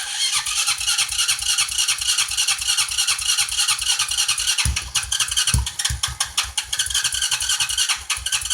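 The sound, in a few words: four-wheeler ATV engine cold start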